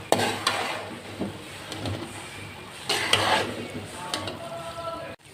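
Spaghetti being stirred into chicken sauce in a pan: soft sizzling with scraping and clinking of a utensil against the pan in irregular strokes, mostly without talk.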